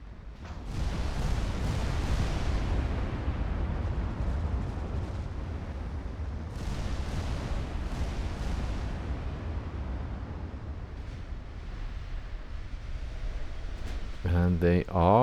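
Naval artillery shellfire in the game Ultimate Admiral Dreadnoughts, a dense continuous roar of distant booming salvos and rumbling impacts, with a speaking voice over it throughout.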